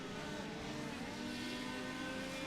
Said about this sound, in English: And burnouts for all 3 drivers here at the front.